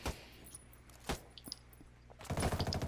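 Two sharp single shots from an F2000 rifle on semi-auto in Ghost Recon Wildlands, about a second apart, followed by a denser burst of game noise.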